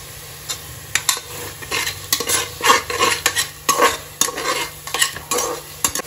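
Onion, peas and tomato sauté together in hot oil for pudina rice, with a spoon stirring and scraping the pan in steady, uneven strokes over a constant close sizzle. Nobody speaks.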